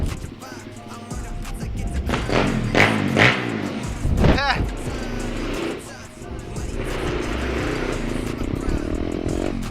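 A small, high-revving Geon X-Ride 190 pit bike engine screams and bogs with squealing tires in a loud burnout, while voices talk and shout over it.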